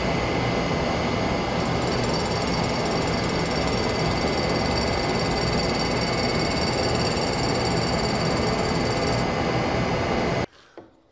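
A dust collector running steadily while a small carbide end mill is sharpened, a loud continuous broadband roar with a faint high whine, cutting off abruptly near the end.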